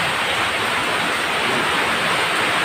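Rushing floodwater from rain flooding a low-lying street, a steady, dense broadband roar that stays loud and unbroken throughout, with no voices.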